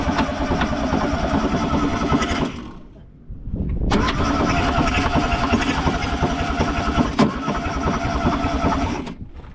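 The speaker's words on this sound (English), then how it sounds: "I'll get the starter motor going" A 1960s classic VW Beetle engine, abandoned for 30 years, cranks steadily on its starter motor in a long buzzing churn, stops briefly, then cranks again for several more seconds without catching.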